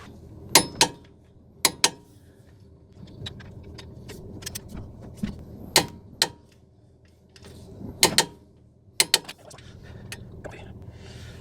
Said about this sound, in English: Alright, I got the old torque wrench, and just saying, 75, 80.